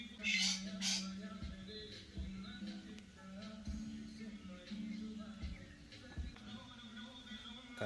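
A white peacock calls in its enclosure: two loud, sharp squawks come close together at the start, followed by quieter background sounds and faint murmuring.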